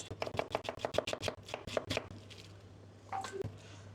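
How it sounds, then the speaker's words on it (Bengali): A knife chops quickly through a small cabbage, cutting it into thin julienne strips. About a dozen crisp, rhythmic strokes land close and clear over a steady low hum, and a few softer scrapes and taps follow. "বাঁধাকপিগুলো জাস্ট এভাবে জুলিয়ান করে নিচ্ছি"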